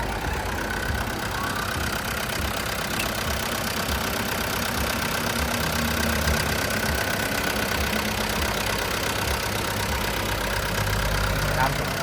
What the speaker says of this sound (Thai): เสียงเครื่องการทำงานของตัวเครื่องยนต์ของเขานะครับ